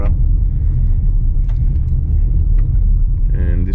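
Car driving fast along a dirt road, a loud continuous low rumble of tires and engine heard from inside, with faint talk near the end.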